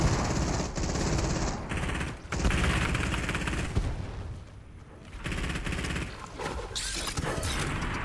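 Dense, loud gunfire from a hand cannon in the video game Fortnite, with bursts of shots and clattering impacts packed together with only brief lulls, and no talking over them.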